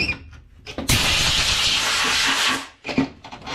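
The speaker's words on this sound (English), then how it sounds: "I'm gonna come in with the compressed air" Compressed air blasts in a loud, close hiss for about two seconds, blowing dust out of the cracks of a car dash cluster panel during upholstery prep, with brief shorter bursts before and after.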